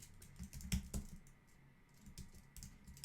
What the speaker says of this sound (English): type in your words that you want to use